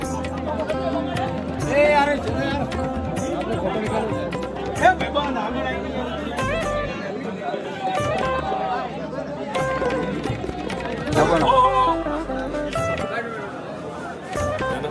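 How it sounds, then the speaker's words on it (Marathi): Large queue of people at Somnath temple, a continuous murmur of many mingled voices close around, steady in level with scattered nearer voices and brief shouts standing out. "रांग लागलेली आहे. प्रचंड गर्दी आहे आज."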